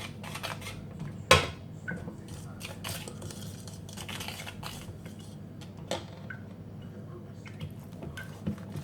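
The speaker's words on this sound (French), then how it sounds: "225 g de farine qu'on va incorporer tout doucement et on va mélanger en même temps" Flour is slowly worked into a cake batter in a bowl, with faint scraping and clinking of a utensil against the bowl and a few sharper taps, quiet and close.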